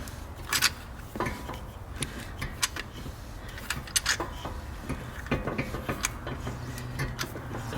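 Caliper piston tool being cranked to push the piston back on a 2009-2018 Jaguar XJ rear brake, giving repeated close ratcheting clicks and metallic ticks over a steady low workshop hum.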